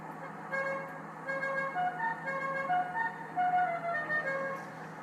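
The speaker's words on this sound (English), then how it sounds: "This one's fitted with an aftermarket horn." An aftermarket horn on a Vapid Bullet supercar in a GTA driving game sounds as a string of short melodic musical toots, a tune-playing horn with a moderate, slightly distant tone and no talk over it.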